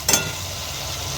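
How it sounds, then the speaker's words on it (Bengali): Milk goes into hot oil with mustard paste for a prawn curry, giving a short splash followed by a steady, even sizzle. "তেল ছেড়ে দিয়েছে, এবার আমি দুধটা দিয়ে দিচ্ছি।"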